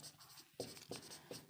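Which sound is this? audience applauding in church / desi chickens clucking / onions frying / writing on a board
writing on a board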